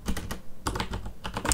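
Rapid bursts of clacking keystrokes on a computer keyboard, close and fairly loud, arriving in short uneven clusters with brief pauses between them and no voices.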